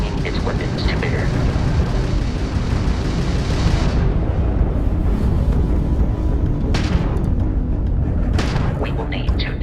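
Crimson Fleet ship weapons fire in Starfield space combat as heavy rumbling blasts and booms, with bursts of bright crackle over a dense low roar, loud and continuous.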